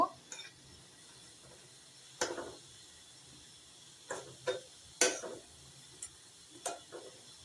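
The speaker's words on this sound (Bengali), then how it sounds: "সবজিগুলো এখন ভালোভাবে কষিয়ে নিব" A utensil scrapes and clinks against a pan as ridge gourd and other vegetables are stir-fried, producing a few sparse, sharp taps and scrapes over a quiet background.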